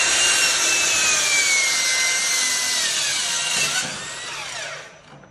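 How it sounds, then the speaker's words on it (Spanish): A table saw rips through long pieces of recycled pallet wood in one continuous loud cut with a bright whine, winding down near the end with no talk. "Tenemos preparada esta aquí en este sitio para poder usar la mesa de corte"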